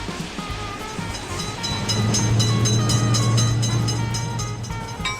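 A train rolls through a road level crossing fitted with a lifting gate for cars, a loud, steady rumble with a deep hum and regular rhythmic clatter of wheels, building slightly toward the middle, with no voices.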